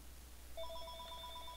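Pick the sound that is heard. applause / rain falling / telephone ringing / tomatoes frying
telephone ringing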